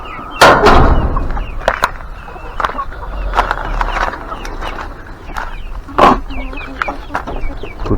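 Chickens being fed cluck and squawk in short bursts around a farmyard, with a few sharp knocks and rustling, and a voice speaks briefly now and then.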